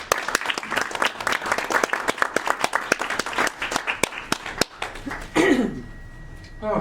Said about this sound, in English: a big round of applause for my friend, stand-up comic extraordinaire